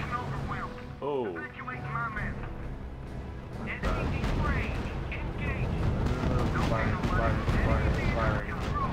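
Gunfire and artillery rumble in the strategy game R.U.S.E., with repeated heavy booms and crackling shots building up to a louder continuous barrage in the second half, under game voices speaking.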